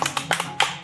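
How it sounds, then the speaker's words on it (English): A few quick hand claps from one or two people during a reality-style elimination game, about half a dozen close, crisp slaps in under a second. "I'll applaud that."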